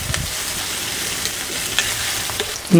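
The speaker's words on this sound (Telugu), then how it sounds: "ఈ ఉల్లిపాయలు కొంచెం కలర్ మారే వరకు వేయించుకుందాం" Onions and green chillies fry in hot oil in a kadai with a steady, even sizzle and faint stirring, heard alone for a few seconds.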